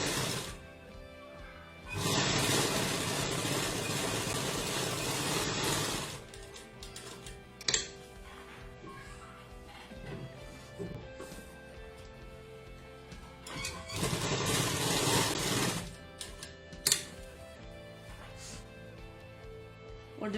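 A sewing machine stitching lace onto a kurta neckline runs in two bursts of a few seconds each, fast and even, with quiet gaps between them filled by faint handling.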